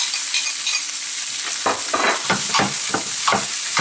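Fennel, garlic and onion sizzle steadily in a hot pan with chile flakes, then a run of rhythmic spoon scrapes and stirring strokes joins in over the second half, close and fairly loud, with no speech.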